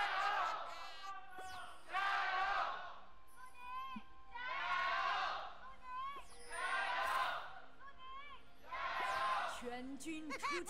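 A stadium crowd at an LPL esports match between Suning and FunPlus Phoenix chants and cheers in about five rhythmic waves, heard from a distance with short lulls between the surges.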